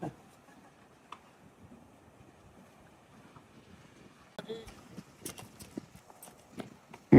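A horse is led along by hand, its hooves giving faint, sparse clip-clops that grow busier toward the end against a quiet outdoor background.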